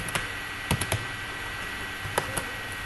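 Data being typed into an Excel sheet on a computer keyboard, with a few sparse, close key clicks in small clusters over a quiet background hum.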